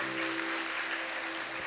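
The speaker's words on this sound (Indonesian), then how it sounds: "Selalu tepuk tangan adik-adik." Children clapping together in a steady, continuous burst of applause, loud and close, lasting the whole stretch with no other sound on top.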